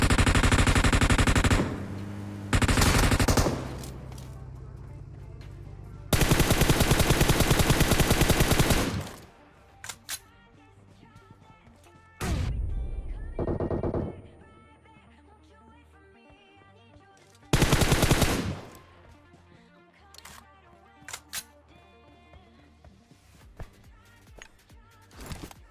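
Gunfire in the mobile battle royale game PUBG Mobile, with long loud bursts of automatic fire alternating with shorter volleys and quieter gaps of scattered in-game sounds.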